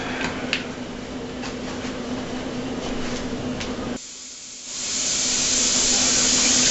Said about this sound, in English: Now we're going to get some water and put in our pan.